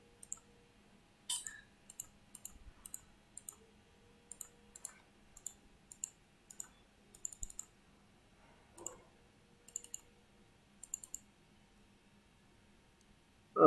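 Sharp mouse clicks arrive singly and in quick doubles with short pauses between them, someone plotting polygon points in Google Earth Pro on a computer; the room is otherwise quiet.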